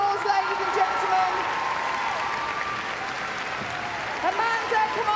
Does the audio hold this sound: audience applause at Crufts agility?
yes